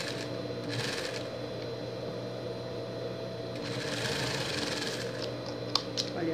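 A sewing machine runs steadily throughout, stitching a Minions-themed pet costume, with a continuous mechanical whir and a couple of small clicks near the end, close and moderately loud.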